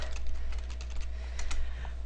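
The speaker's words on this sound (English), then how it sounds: "let's type some stuff" Steady typing on a computer keyboard, a continuous run of quick key clicks with irregular rhythm, close and moderately quiet, with no voices.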